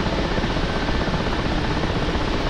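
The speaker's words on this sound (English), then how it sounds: "Helicopter is dead ahead. There's a Hind ahead." Mi-24 Hind attack helicopter in the DCS combat flight simulator, heard as a steady, dense rotor and turbine roar that fills the whole stretch without pause or talk.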